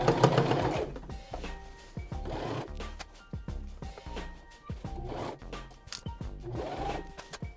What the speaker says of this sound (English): So I'm gonna sew. I'm gonna lock in the stitch.